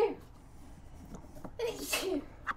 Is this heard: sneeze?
yes